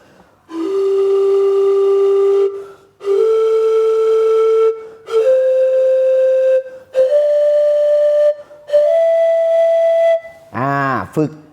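Practice tones blown on a vot, a Thai circular panpipe wind instrument: five long sustained breathy notes, each a little higher than the last, with brief pauses between them, then a short wavering warble at the end, close and loud with no talk.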